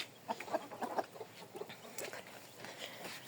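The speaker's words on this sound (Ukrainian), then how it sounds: "Да, квокає, чую." A broody hen clucks softly in short, irregular bursts, close by, with faint rustling between the calls.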